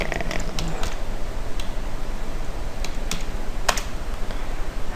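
Rapid typing on a computer keyboard, close and steady, with irregular clicky keystrokes and a few sharper taps over a constant background hiss.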